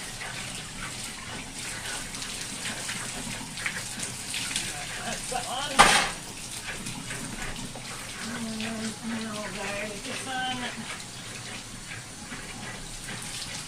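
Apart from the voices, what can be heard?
hot tap water running over fabric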